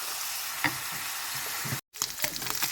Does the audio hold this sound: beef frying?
yes